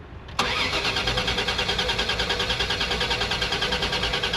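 A car with a hot-start fault cranks without firing: after a click, the starter whirs steadily with a rapid even rhythmic pulse, loud and close, and the engine never catches.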